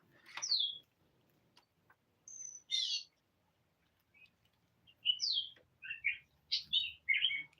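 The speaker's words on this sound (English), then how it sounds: "Hear the birds" Several birds chirp and tweet in short, separated bursts against a quiet background, some calls sharp and close, others fainter.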